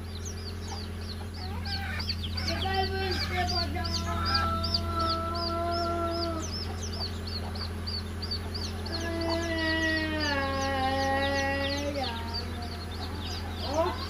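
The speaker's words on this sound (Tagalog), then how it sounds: "Buhay probinsya, daming manok." Chickens cluck and roosters crow repeatedly in the rural countryside, several drawn-out crows rising over a constant low hum and chatter of the flock, fairly close.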